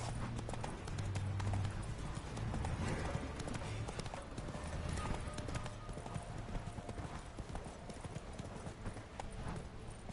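Hooves of the horse Roach galloping in The Witcher III, a fast, steady clip-clop rhythm close by and continuing throughout, over a constant bed of ambient game noise.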